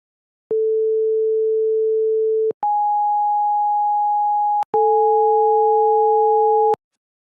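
Pure sine tones at A4 and G-sharp 5 (831 Hz), heard as a steady lower tone, then a higher one, then both sounding together, each about two seconds long, clean and alone.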